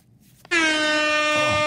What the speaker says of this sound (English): Lay off those air horns.